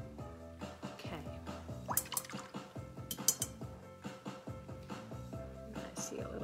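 Paintbrush being rinsed in a water cup: light sloshing and small drips with faint clinks of the brush against the container, quiet and close.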